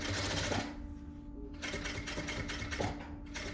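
A sewing machine stitches lining fabric for a vest, running in a steady mechanical whir near the mic, briefly pausing before starting up again.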